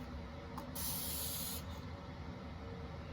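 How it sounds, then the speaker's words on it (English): A single short hiss of a spray bottle misting paint on a decoupaged paper napkin, close and soft, over a steady low background hum. "I wanna do a little bit of a spray and see if we can kind of make it run"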